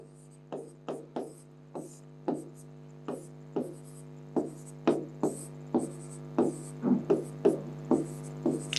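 Chalk or marker strokes on a board in a math class, a series of sharp, evenly spaced taps and short scrapes, moderately loud over a steady electrical hum, with no talking.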